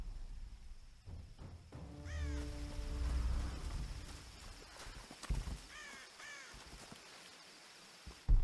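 Crows caw in the Tomb Raider video game during a hunting scene, a few harsh calls in two short bursts over low rumbling ambience and scattered thuds.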